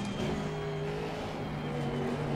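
An Aston Martin GT3 race car in Assetto Corsa Competizione holds a steady engine drone with a low tonal hum, continuous and moderately loud throughout, with no talk over it.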